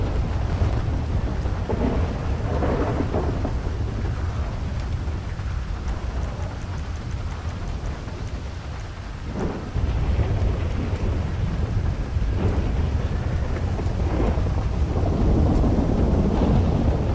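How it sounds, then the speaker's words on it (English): A thunderstorm in the video game GTA 5 rumbles under steady heavy rain, with low rolling thunder and a constant wash of falling water throughout. "It is raining down outside."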